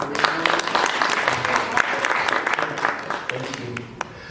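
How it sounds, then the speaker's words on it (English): Indoor audience at a homeownership book event breaks into hand clapping, a full sustained round of many hands with a few louder claps standing out and faint voices mixed in. "I want to hear a hand clap."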